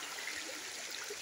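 Hill stream flowing under a bridge in rural Jajarkot, a steady close rushing wash of water with faint trickles, continuous for a moment with no voices.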